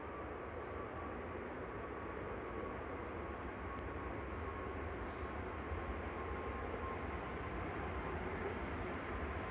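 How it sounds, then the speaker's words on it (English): A Ryanair Boeing 737 MAX arriving from Lisbon at Manchester Airport produces a continuous, fairly distant rumbling drone with a faint steady whine, unbroken for the whole stretch. "This is Ryanair from Lisbon."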